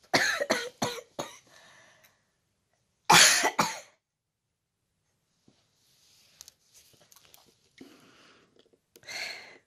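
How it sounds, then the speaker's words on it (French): A burst of several harsh coughs, then a pause and another heavy cough, followed by quieter shuffling and a faint final cough. "J'ai mal quand je tousse par contre."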